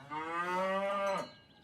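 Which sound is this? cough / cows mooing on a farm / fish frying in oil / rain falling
cows mooing on a farm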